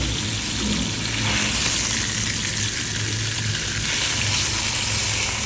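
Karimeen fish sizzling steadily in hot oil in a pan for Kerala-style fish mappas, a loud continuous frying hiss with soft scraping as the fish is turned.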